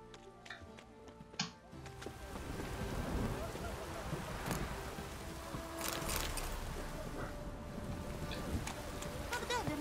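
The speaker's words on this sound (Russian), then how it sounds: "Дождик." Steady rainfall in The Witcher 3, heard as a continuous hiss with scattered patters and faint rumbling, running the whole length with a few brief louder knocks near the start.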